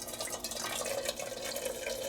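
Water pours from a 1.2 liter Fire Maple Antarcti stainless steel pot as a soft, steady trickling stream that runs without a break. The pour is fairly quiet and close, with no voices.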